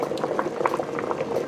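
Eight cups of water boil hard around gold potatoes and chopped baby carrots in a pot, giving a close, continuous bubbling and popping.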